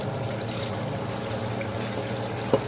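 Water is poured steadily into a pot holding pineapple pieces, the pineapple head, lemon, lime and apple for pineapple turmeric ginger tea, a continuous close trickling flow with a brief clink near the end.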